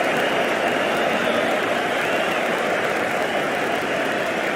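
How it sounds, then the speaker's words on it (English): Loud, dense roar of a cricket stadium crowd in the Cricket 22 video game during an India vs New Zealand one-day international, steady cheering and applause-like noise filling the whole span without a break. "The crowd are really getting quite raucous."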